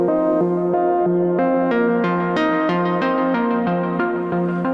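A sustained synthesizer melody of steady, buzzy notes stepping up and down, each held at even loudness with a bright, unchanging tone and no plucky decay.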